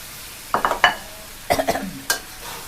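Eggplant stir-fried with fresh shrimp in a pan, a few short scraping stirs and clinks with a light sizzle, in two quick bursts close by.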